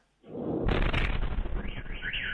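A sudden loud explosion erupts after a short silence, followed by a sustained rumbling roar that slowly fades with rattling noise.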